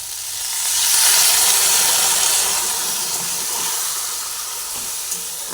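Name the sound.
a little water added to sizzling okra in a hot pan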